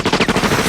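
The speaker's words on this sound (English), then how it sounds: "The shooting." A rapid burst of gunfire from a Quentin Tarantino film fight scene, several sharp shots in quick succession, loud and close, lasting under a second.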